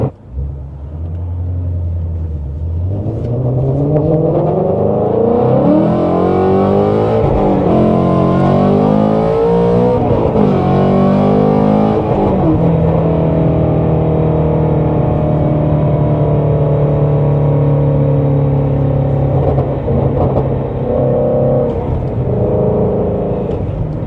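A 2017 Ford Mustang GT350 engine starts from a low idle, then revs hard through repeated rising and falling sweeps before settling into a steady, loud, close drone with occasional small throttle blips, and no voices.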